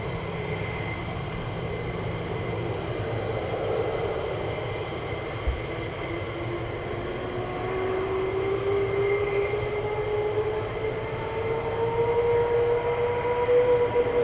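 Military aircraft at RAF Lakenheath sit running before departure, a steady distant engine roar with a slowly rising whine that builds gradually louder toward the end, no voices.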